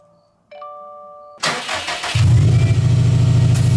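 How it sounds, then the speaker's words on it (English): A car engine cranks and fires up after a chime and a click, then settles into a loud, steady, throbbing idle up close. "first we got to fire it up and warm it up for about 5 minutes"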